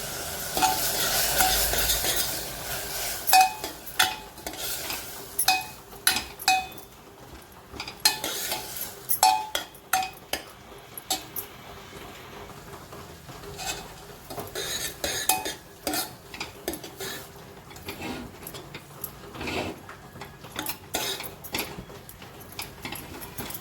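Masoor lentils with browned onion and tomato being stirred in a pot, with a steady run of scraping spoon strokes against metal and clinks over a light sizzle; no one speaks.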